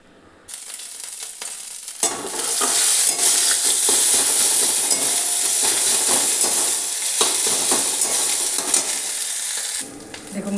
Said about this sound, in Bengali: দেখুন মশলাটা একদম ভাজা হয়ে গেছে